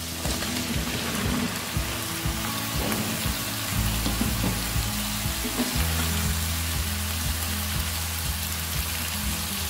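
Pieces of apple gourd (tinda) fry in hot oil with softened vegetables in a pan, a loud continuous crackling sizzle close by, with occasional stirring knocks and no speech.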